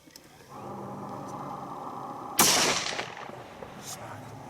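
A single loud, close hunting rifle shot fired at a deer cracks out over a steady background hum and dies away in a short, fading tail.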